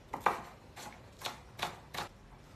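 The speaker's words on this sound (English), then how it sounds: "Now I'm cutting down spring onion and red capsicum." Knife chopping spring onion and red capsicum on a board: five or six separate crisp cuts at an uneven, unhurried pace, fairly quiet and close, with no talking over them.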